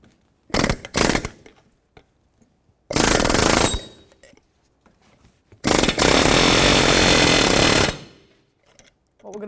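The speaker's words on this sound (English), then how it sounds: "the best way I think to take this nut off is going to be with an air chisel" A pneumatic air chisel hammers at a CV axle nut on a 2008-2012 Jeep Liberty, coming in three loud rapid-fire bursts separated by quiet pauses, the last burst longest, each a harsh metallic chatter close by.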